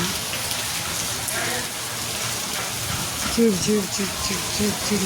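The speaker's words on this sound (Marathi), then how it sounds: "हा पाऊस पाऊस काय उघडायचं घेत नाही" Heavy monsoon rain pours down outside a home in Maharashtra, a dense continuous hiss and patter that stays loud and even, with a brief voice-like tone rising near the end.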